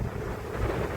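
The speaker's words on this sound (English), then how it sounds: "you can hear the wind now" Wind gusts across a Tasmanian beach in winter, a brief, close, rumbling buffet of air against the microphone.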